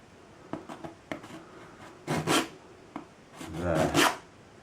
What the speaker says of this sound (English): So I'm just going to scrape that off, all the excess paint that's in there, scrape it as hard as you can to get it off.